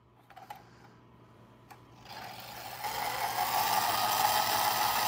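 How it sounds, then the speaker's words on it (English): A wind-up Dick Tracy toy squad car being wound with its key: a few faint clicks, then a steady, gradually louder ratcheting whir of the spring mechanism, close up, with no talking. "So we wind it up a little bit."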